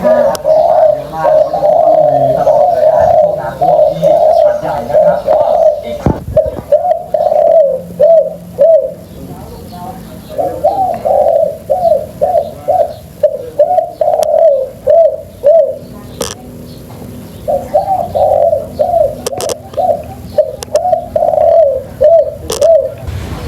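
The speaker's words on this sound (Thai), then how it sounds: "ตัวนี้เป็นนกต่อสองคุกนะครับเต็มๆเลย" A decoy dove coos loudly and repeatedly in rhythmic two-note phrases, close by, with brief pauses between bursts of calls and occasional faint clicks.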